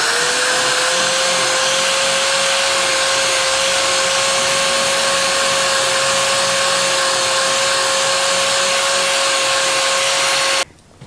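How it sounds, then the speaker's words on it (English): A power drill spins a wire brush against rough rusty metal, a loud steady whirring whine held for about ten seconds before it abruptly stops. "drill in the wire brush."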